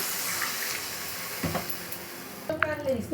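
Water poured into a pan of fried Bengali spice masala, already cooked down until the oil separated, sets off a sudden sharp sizzle and bubbling after a stretch of soft, low frying hiss, with a brief clatter midway.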